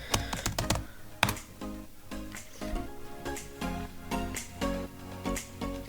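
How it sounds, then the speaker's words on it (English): Close, quick clicking keystrokes on a computer keyboard as a password is typed, in uneven bursts with brief pauses between them. "let's type in some password."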